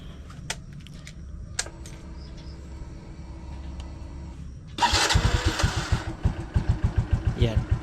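A small motorcycle engine, run on fuel treated with a complete fuel cleaner on a cold, wet day, cranks and catches, then settles into a loud, rhythmic, close-up idle with regular pulsing beats after a few quiet clicks.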